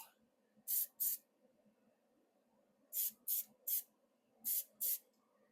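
Short hissing bursts of a spray bottle misting a light coat of detailing product over a car interior, five quick pumps in two clusters with quiet gaps between, close and crisp.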